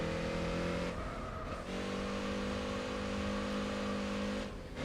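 An Audi TT with a 4-cylinder engine in the video game Gran Turismo 4, a steady, high engine drone that climbs through the revs, dips briefly twice as if shifting gears, then pulls again, with no talk.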